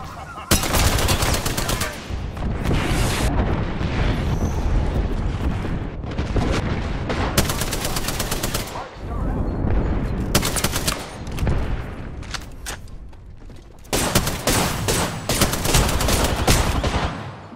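Heavy automatic gunfire in Apex Legends, with loud, sustained bursts repeating across the whole stretch and short gaps between sprays, mixed with booming impacts.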